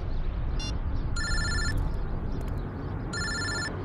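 A telephone rings in repeated electronic bursts over a steady low background hum, with no one speaking.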